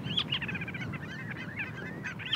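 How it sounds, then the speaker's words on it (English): Geese and other birds calling over open tundra, a busy chorus of honking and chattering calls from several birds at middle distance, with a low wind-like rumble underneath. "We love the sound of the birds."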